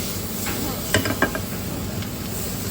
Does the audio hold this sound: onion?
yes